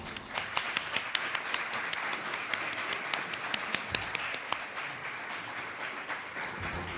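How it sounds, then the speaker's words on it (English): A small audience at a mayoral candidate forum applauds, with a few distinct close claps standing out in a brisk, steady rhythm over softer clapping before it tapers off. "I encourage everyone to give our candidates a round of applause."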